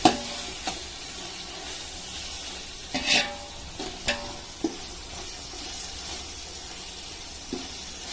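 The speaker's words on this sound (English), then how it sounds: "as I'm frying, I'll be using a little oil" Steady sizzling of beef frying in oil in a pan, with occasional scraping and stirring clicks from a utensil, close up and without talk.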